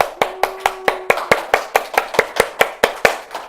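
An Easter Sunday congregation in a Korean church claps in praise, with about a dozen crisp, strongly accented claps on an even, brisk beat. A sustained tone sounds faintly beneath the first second.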